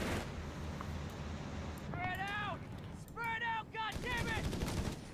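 Bursts of machine gun fire in a Company of Heroes 3 tournament battle, rapid rattling volleys in the background, with voices talking over them throughout.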